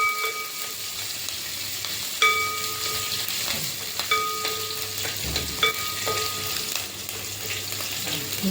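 Chopped green chillies and ginger fry with a steady, bright sizzle in a thick, heavy uruli pan, with occasional spoon scrapes and knocks, close and continuous, no voices.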